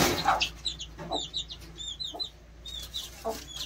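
A hen clucks repeatedly in short bursts, close and fairly loud, with sharp chirpy calls from other birds scattered over it.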